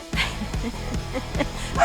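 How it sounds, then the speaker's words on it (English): Dog barking indoors, a run of about five sharp close barks and yips in quick succession, loud and alone. "So before we were rudely interrupted by the dog"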